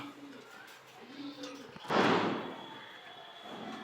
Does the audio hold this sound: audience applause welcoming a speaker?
no